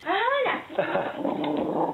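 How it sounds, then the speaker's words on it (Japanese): A dog ferociously eating cabbage, growling and snarling loudly up close while chewing, with a rising whine at the start and a continuous throaty rumble throughout. "親の敵みたいにキャベツを食べる犬。"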